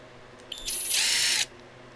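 Power drill driving out number 2 fasteners on an EGO mini bike gives a short, high whirring burst of about a second, close by, with a faint click at the start.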